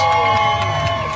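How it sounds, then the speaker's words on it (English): A crowd roars and cheers at a varsity homecoming high school football game, Central Lee against West Burlington, a dense, steady wall of voices with some tonal ringing running beneath it throughout. "But you can hear the crowd right now, and they're getting fired up"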